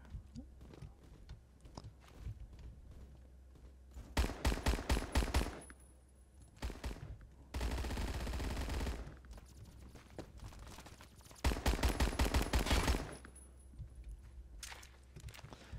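A PPSh-41 submachine gun firing in the Roblox game Phantom Forces, rapid full-auto bursts in several loud rattling strings separated by short pauses, with a sustained noisy rush between bursts and no talking.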